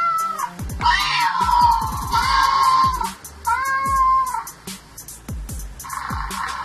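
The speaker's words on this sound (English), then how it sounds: "Let's listen to our kitty sounds." A toy plays recorded cat sounds: a run of loud, close meows and drawn-out caterwauls, broken by sharp clicks and short gaps.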